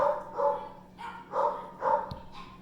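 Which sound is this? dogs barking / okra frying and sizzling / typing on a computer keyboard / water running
dogs barking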